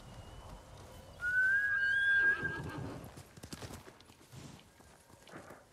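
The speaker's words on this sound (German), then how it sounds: "Du bist ein braves Pferd" A horse in the video game Ghost of Tsushima whinnies once, loud and close, a rising then falling neigh lasting about a second, followed by soft hoof clops and rustling.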